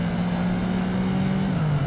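Race car engine in the PGR2 racing game during a Coupe Series race after overtaking a BMW Z4, a steady, loud, droning engine hum that holds pitch and then dips slightly near the end.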